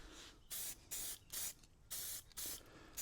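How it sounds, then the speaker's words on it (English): Spray can of fusion paint coating a part of a Ford F450 service truck: five separate bursts of loud hiss, each about a third of a second long, with short quiet gaps between them. "And get it on there so I don't get overspray on the other one"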